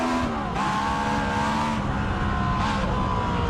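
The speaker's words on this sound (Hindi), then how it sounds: "यह V16 इंजन साउंड।" V16 engine running hard, a loud steady droning roar with rising and falling pitch as revs shift, continuous and close, with no voices.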